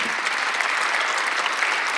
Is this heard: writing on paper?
no